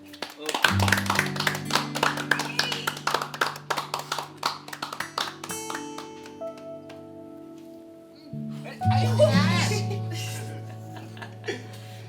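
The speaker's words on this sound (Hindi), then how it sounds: "तुम लोग ताली बजा दो" People clapping on request: a run of quick, close claps over sustained music, fading into laughter and chatter, with talk and chuckling toward the end.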